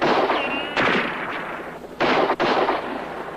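Gunfire erupts during a tense TV drama hostage standoff, with sharp broadband shots in a brief flurry, two louder cracks standing out over a noisy, reverberant background with no talk.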